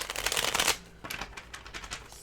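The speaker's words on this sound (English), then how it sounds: "Let's shuffle these cards." Tarot cards shuffled by hand, a dense riffling burst that ends abruptly, then a series of lighter rhythmic flicks and taps, close to the microphone with no speech.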